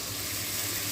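Mushrooms sautéing in a pan after onions cooked with rock salt for a mushroom biryani, giving a steady, close sizzle with faint stirring for one second and no speech.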